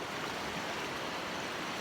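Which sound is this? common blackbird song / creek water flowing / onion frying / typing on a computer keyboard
creek water flowing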